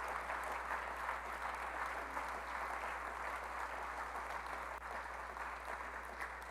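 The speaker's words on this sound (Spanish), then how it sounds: "denle un aplauso al Señor, ¿no?" A church congregation applauds during a Spanish-language sermon, a continuous even patter of many hands over a steady low electrical hum.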